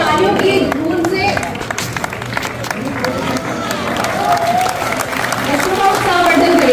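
Audience applause at a student council talent felicitation ceremony as medal recipients gather on stage, dense steady clapping from a crowd with a voice and chatter mixed in throughout.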